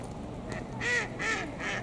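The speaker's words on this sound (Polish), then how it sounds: "odezwała się jaka kaczka. Albo kaczor." A duck quacks three times in quick succession, fairly close, with a quiet outdoor garden background underneath.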